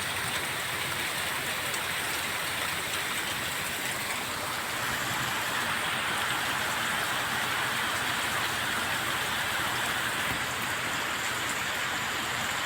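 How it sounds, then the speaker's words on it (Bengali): Heavy, steady downpour during a rainy day in the hills of Meghalaya, a dense continuous hiss of rain on surfaces, loud and unbroken throughout with no voices. "আজ সকাল ধরেই মুসলধারে বৃষ্টি হচ্ছে"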